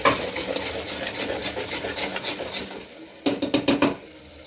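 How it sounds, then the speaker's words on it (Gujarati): A spoon scrapes and stirs a flat bean and brinjal curry with spices in a metal pressure cooker, with repeated close rasping strokes in a steady rhythm and a short burst of quicker scrapes near the end. "હવે આપણે સારી રીતે મિક્સ કરી લઈશું"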